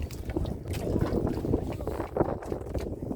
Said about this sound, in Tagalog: Dito yung makina guys.